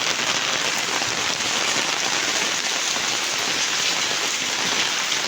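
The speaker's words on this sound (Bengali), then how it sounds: "খুব সুন্দর বৃষ্টি হচ্ছে" Steady, heavy rain pours down and patters densely on surfaces, with a continuous even hiss and no pauses or voices.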